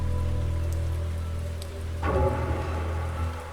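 Steady heavy rain pours down with a low rumbling undertone, swelling louder partway through as the downpour intensifies.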